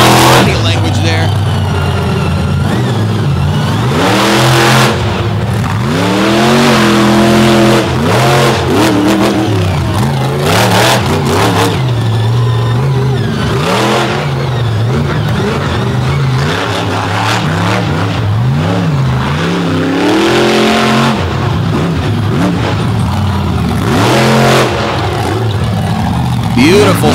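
Monster truck engines roar and rev hard in repeated rising and falling surges at a 2023 monster truck battle in Brooksville, loud and continuous, with an announcer talking over the noise throughout.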